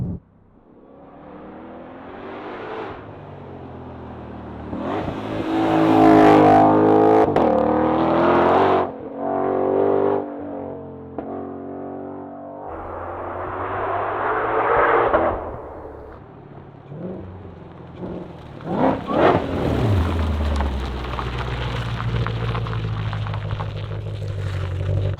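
A 2020 Shelby GT500 engine revs hard and accelerates, loud and close, with repeated surges and gear changes across the run and a deep rumble settling at the end.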